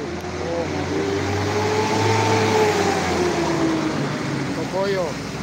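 A bus rumbles past on the road with a broad steady engine drone that swells and fades, close by, while a voice talks over it.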